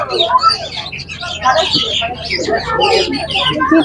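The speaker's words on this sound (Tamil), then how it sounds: "நீண்ட இடைவெளிக்கு பிறகு குருவி சத்தம் கேட்குறேன்" Many sparrows chirping and twittering together in a busy, continuous chorus inside a netted zoo enclosure, close by and fairly loud.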